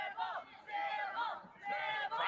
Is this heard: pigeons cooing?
no